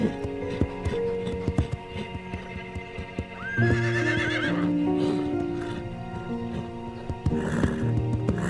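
A horse neighs with a loud, rising whinny mid-clip, amid hoof clip-clops, snorts and shifting movement close by, with a sustained hum and musical tones underneath.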